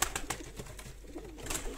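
Domestic pigeons kept by a village pigeon racer, with soft repeated cooing among fluttery, rustling background noise, several short calls spread across a couple of seconds at moderate distance.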